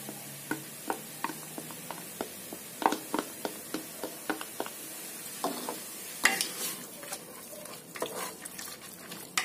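Ground beef and tomato paste stirred in a pressure cooker: a spoon scrapes and taps the pot in repeated sharp strokes over a soft steady sizzle, close and fairly loud, with no talking.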